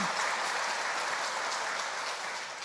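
A church congregation applauds its new pastor at an installation service, a dense, sustained wash of clapping from many hands that stays even and gradually eases toward the end.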